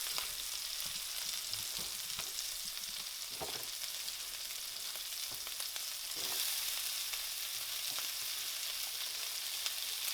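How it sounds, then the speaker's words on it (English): Onions frying in leftover bacon fat, a continuous gentle sizzle with a few light stirring knocks, steady and unbroken. "So I'm going to fry some onions here."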